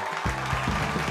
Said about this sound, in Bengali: আপনারা সবাই একবার জোরে হাততালি দিন